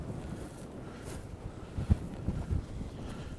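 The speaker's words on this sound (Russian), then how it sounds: "Ёлки-палки, этот ветер вообще." Strong gusty wind rumbling and buffeting the microphone in a valley by the Donuzlav mosque in Crimea, a steady roar with a few louder gusts toward the end and no voices.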